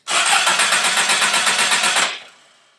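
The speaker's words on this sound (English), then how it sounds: "So crank the engine." A car engine cranks on its starter motor with a rapid, even chugging pulse for about two seconds, loud and close, then stops and fades quickly.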